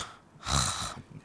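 A voice imitates snoring with a single short, breathy snort lasting about half a second, close up in a quiet interview setting.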